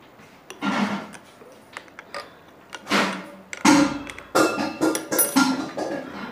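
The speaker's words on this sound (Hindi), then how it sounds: "इसके चार नट होते हैं, ये ब्लेड खोल लेते हैं ऐसे।" Metallic clicks, taps and scraping clinks of nuts being unscrewed to remove the blade from a mixer machine, irregular and close, with short bursts of handling noise in a quiet room.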